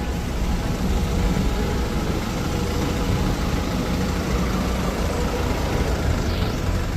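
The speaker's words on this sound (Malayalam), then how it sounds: "അങ്ങനെ നമ്മളുടെ ബസ് എത്തിയിട്ടുണ്ട്" A bus engine idles steadily after pulling in at a stop in Krabi, Thailand, giving a constant low rumble with no speech over it.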